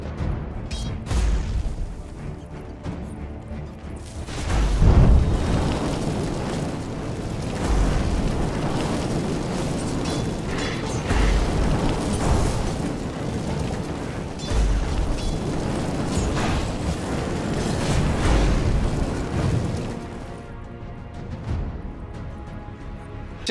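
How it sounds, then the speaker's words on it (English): Dota 2 game sounds during a tower attack: a dense, continuous clash of impacts, booms and bursts of effects, with heavier thuds recurring every few seconds and a brief drop-off near the end. "Dire's middle tower is under attack."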